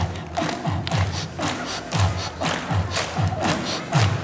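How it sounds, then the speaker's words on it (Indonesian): Children clapping hands together in unison during a storytelling session, a run of loud rhythmic group claps with thudding beats and some cheering voices from the young crowd. "Yuk bareng, tepuk tangan bareng-bareng."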